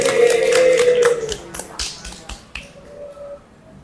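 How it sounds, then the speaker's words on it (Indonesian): A classroom of children gives a short round of applause, with scattered sharp claps fading out over a few seconds after a brief tone, fairly close and uneven. "Kita beri tepuk tangan dulu untuk kita semuanya"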